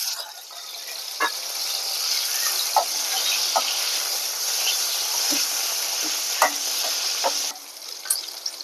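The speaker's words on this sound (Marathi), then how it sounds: "प्रथम भेंडी तळून घ्यायची आपण" Okra coated in salt frying in hot oil, a steady close sizzle with occasional sharper pops and crackles, no voices over it.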